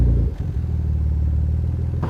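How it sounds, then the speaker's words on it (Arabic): Petrol car engine idling and revving, a deep, loud throbbing rumble close by with a brief dip early on and a steady low drone after, heard on its own without talk. "من ناحية تانية رامي برضو متمسك جدا بعربيته البنزين"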